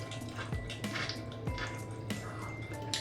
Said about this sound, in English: I'm gonna wet my face now.